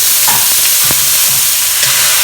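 Shiitake and shimeji mushrooms fry in a hot pan with a constant close sizzle and a few soft stirring scrapes.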